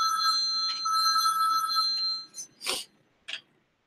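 A telephone rings with a bright electronic trill in two bursts, then breaks off into a few short clattering handset sounds before silence.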